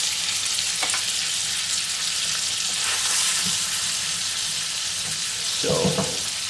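Garlic and thyme fry in butter with a steady sizzle for a sirloin steak sandwich. A louder burst of sputtering and stirring comes near the end, and no one speaks.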